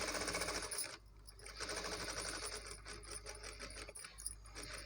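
Sewing machine stitching a maggam work blouse, quick fine mechanical whirring in bursts with brief pauses between runs, faint and close.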